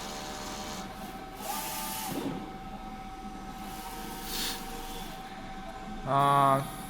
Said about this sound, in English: We are going to make a test print. First, cleaning, down button, then enter.